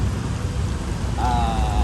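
Steady heavy rain patters continuously, with a brief faint whine rising near the end.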